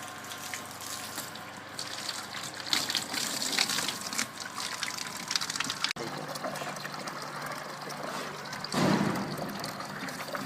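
Water gushing and splashing into a hydrostatic test box in a fluid mechanics lab, a steady rushing pour with bubbling trickle, continuous at moderate level throughout.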